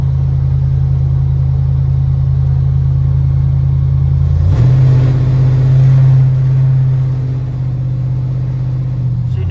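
A pickup truck drives on a road with a steady, loud low engine drone and deep rumble, the pitch shifting midway as it accelerates and then settles, with no voices over it.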